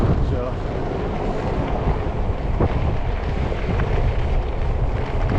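Strong wind buffets the microphone in a constant low roar and rumble, loud and close, with no clear pauses between gusts.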